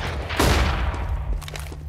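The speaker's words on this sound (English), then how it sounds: "Grenade out! I'm throwing a flashbang." A flashbang grenade goes off in the video game Counter-Strike: Global Offensive, a loud blast with a booming low rumble, followed by lighter gunfire-like clatter and a trailing wash of noise.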